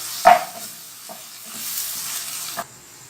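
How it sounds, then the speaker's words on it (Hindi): Chopped onions frying in hot oil, with a low steady sizzle behind a few sharp stirring scrapes near the start, middle and end. "हमने ये प्याज चॉप्ड इसमें फ्राई करनी है"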